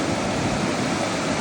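Hurricane River in Michigan's Upper Peninsula flows and rushes in a steady, broadband wash of water that stays close and constant throughout, with no voices.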